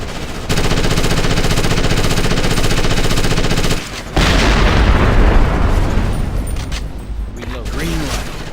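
Sustained automatic gunfire and booming blasts from the Ghost Recon Advanced Warfighter video game on Xbox One X, loud and dense throughout with a brief dip midway, shouted voices mixed in.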